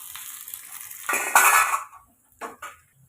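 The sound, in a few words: sautéing onion and curry leaves in a pan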